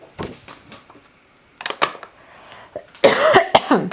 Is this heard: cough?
yes